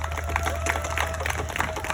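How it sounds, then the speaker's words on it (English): Short burst of audience applause at an outdoor rally in Cherry Hill for an Asian American curriculum bill, scattered hand claps with a few cheers over a low steady hum. "Give them a round of applause"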